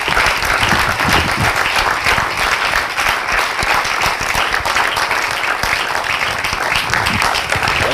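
A live audience claps and cheers loudly as guests make their entrance at an evening event, dense and steady applause filling the room throughout.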